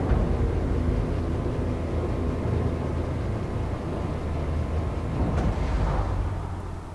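A spaceship launching and lifting off in Elite Dangerous: a steady, loud, deep engine rumble that holds throughout, with a brief rising whoosh near the end and no voices.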